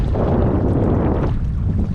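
Strong wind buffets the microphone in a loud, continuous roar with no voices, outdoors during a goose hunt near an island.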